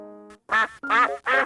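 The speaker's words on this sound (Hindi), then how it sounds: "Duck, बतख।" A duck quacks three times in quick succession, loud, nasal and close, after a short steady tonal lead-in.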